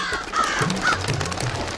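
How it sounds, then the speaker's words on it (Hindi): Several crows caw on a rooftop ledge in an animated children's story, two or three harsh calls over a low background with no speech. "14 कौवे चंदू की चाची के छत के मुंडेर पर"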